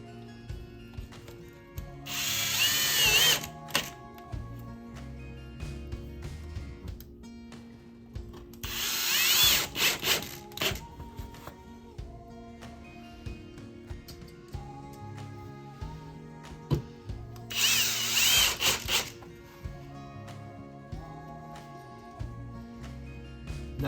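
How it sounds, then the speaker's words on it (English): A power drill drives screws into a door jamb during a drywall and door jamb repair, three loud whirring bursts of a few seconds each spaced apart, with knocking and handling noise of wood and tools between them. "Now we're just gonna screw this in."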